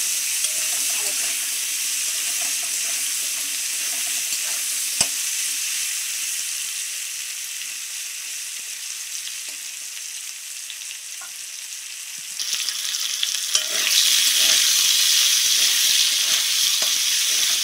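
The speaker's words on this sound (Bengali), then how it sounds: "ছোটো ছোটো করে আলু কেটে নিয়েছি, এটা আমি একটু লাল লাল করে ভেজে নেব" Diced potatoes fry in a pan with a steady bright sizzle and hiss, a few clinks and stirring sounds, the sizzle growing louder toward the end.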